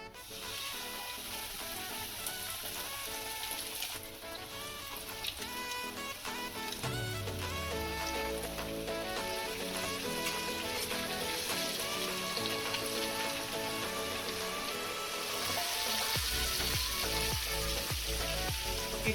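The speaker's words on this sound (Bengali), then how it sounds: "এবারে এক এক করে ভেজে নেব।" KFC-style chicken pieces fry in hot refined oil in a kadai, a steady close sizzle with crackling bubbles that thickens and grows louder partway through.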